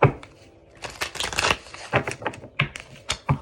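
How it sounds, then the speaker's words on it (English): Oracle cards being shuffled in quick riffling bursts, with short pauses between passes, close to the listener. "One more shuffle."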